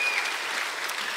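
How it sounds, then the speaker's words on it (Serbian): Audience applause for a school group on a television show, a short, even patter of many hands clapping in a hall. "Veliki jedan aplauz za prvu gimnaziju"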